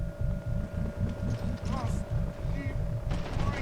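A gunner's rapid automatic gunfire in the video game Mercenaries 2, a steady rattling stream of shots that runs without a break, loud and close, over a constant mechanical hum.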